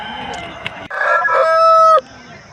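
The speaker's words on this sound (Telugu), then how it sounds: "పుంజు అయితే చాలా బాగుంది." A black rooster crows once, loud and close, at a rooster market in Nallapadu, a single drawn-out call with brief clucking before it.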